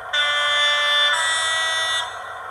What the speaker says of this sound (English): Multiple horns number two.